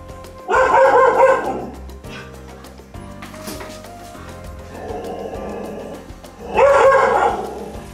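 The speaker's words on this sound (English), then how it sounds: "My guard dog, everyone." A guard dog barks in two loud bursts of several quick barks each, near the microphone, with quieter household noise between them and no talking.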